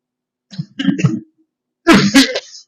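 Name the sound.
cough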